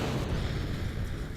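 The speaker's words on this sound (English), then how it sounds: "It had its own little separate explosion up here" Separatron explosion in a space video game, a dense low rumbling blast that roars steadily throughout.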